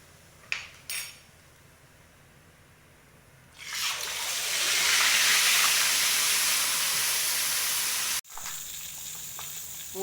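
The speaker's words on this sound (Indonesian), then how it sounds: "Aku mau menggoreng ikan, aku pakaiin tepung sedikit." Flour-coated tuna drops into hot oil in a pan and sizzles loudly, preceded by a couple of light utensil clinks; the frying hiss swells, holds steady, then cuts off abruptly before resuming more quietly.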